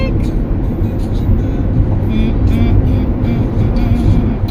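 A car driving in California traffic gives a loud, constant low rumble and vibration, filling the cabin evenly with a steady road and engine drone.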